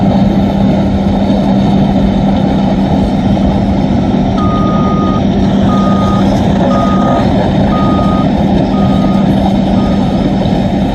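Heavy machinery at the Tropicana Las Vegas demolition site, with an excavator working nearby: a steady loud low engine drone, with a repeating reversing-style beep pulsing through the second half.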